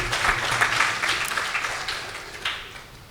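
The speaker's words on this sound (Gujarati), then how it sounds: "એ બદલ આપણે એક વખત તાળીઓથી વધાવીએ." An audience at a religious discourse bursts into applause, a dense wash of clapping that starts strong and gradually tapers over a few seconds.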